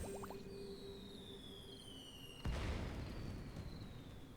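A firework potion in the Little Witch in the Woods video game goes off with a single sudden burst about halfway through, followed by a soft crackling fizz under quiet game music.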